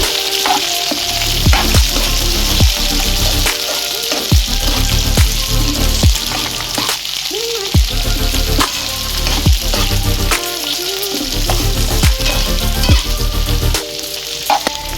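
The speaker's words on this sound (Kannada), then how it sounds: "ಈ ಥರ ಎಣ್ಣೆಯಲ್ಲಿ ಎಲ್ಲ ಈರುಳ್ಳಿ, ಟೊಮೊಟೊ ಎಲ್ಲ ಚೆನ್ನಾಗಿ ಫ್ರೈ ಮಾಡಿಕೊಂಡ್ರೆ ತುಂಬ ಚೆನ್ನಾಗಿರುತ್ತೆ." Onions and tomatoes fry in oil in a pan for a Katla fish curry, giving a loud, continuous sizzle broken by regular scraping strokes of a spatula, with no voices.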